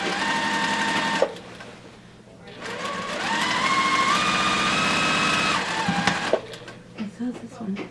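A sewing machine stitches a quilt border with a close, steady whirring hum that rises in pitch for several seconds, stops, then starts again.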